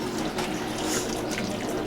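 Water drains and splashes from soaked corn husks for tamales, a short steady running trickle like water into a sink, close and fairly loud.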